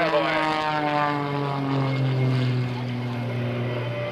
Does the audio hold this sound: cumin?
no